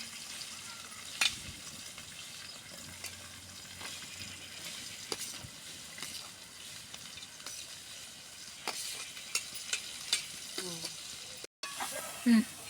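Ivy gourd pieces and onions fry in a pan, giving a steady low sizzle with occasional stirring clatter and a few louder knocks near the end.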